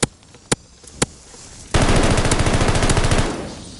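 Automatic rifle fire in an online first-person shooter: three sharp, isolated shots, then a loud, sustained rapid burst that ends abruptly.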